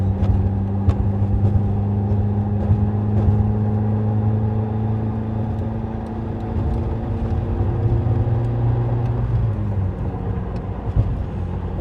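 1994 Nissan Pulsar GTI-R accelerating onto a highway, heard from inside as a steady, loud engine drone with a slowly building hum under light road rumble, easing off near the end.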